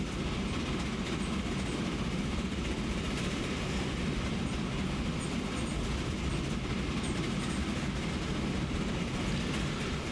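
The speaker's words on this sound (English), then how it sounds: "I just need train 4 to go past a bit." A train rolls past in the Transport Fever game, a loud, continuous rumble with rhythmic clattering of wheels on rails.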